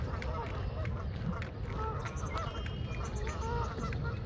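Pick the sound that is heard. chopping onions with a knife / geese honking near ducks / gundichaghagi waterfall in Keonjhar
geese honking near ducks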